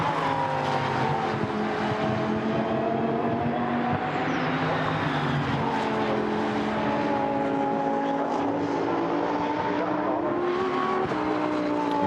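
Several Lamborghini Super Trofeo race cars run nose to tail at Silverstone in a 2019 Europe series race, their engine notes droning steadily and rising and falling in pitch as they pass, loud and continuous throughout.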